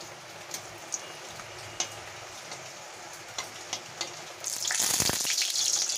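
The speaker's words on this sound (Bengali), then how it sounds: "শুকনো লঙ্কাটা আমি ভালো করে আগে ভেজে নেব" Dried red chillies fry in oil with light scattered crackles and faint ticks, then a loud, steady sizzle suddenly surges up near the end, close and unbroken.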